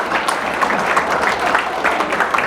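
Steady applause from an audience fills the space, dense clapping that holds at an even level throughout without a break.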